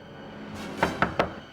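Three quick knocks land on a door, evenly spaced and moderately loud over a faint room hum, with no voices.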